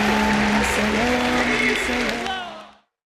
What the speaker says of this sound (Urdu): آپ کی بھرپور تالیوں میں اپنی سیٹ سے اٹھ کر ڈاکٹر ذاکر نائک صاحب کا استقبال کیجیے